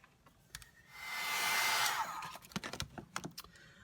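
A hair dryer blows hard for about a second to dry paint on a stencil, then switches off, leaving a run of small clicks and taps.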